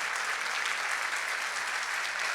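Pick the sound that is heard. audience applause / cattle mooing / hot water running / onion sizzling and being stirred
audience applause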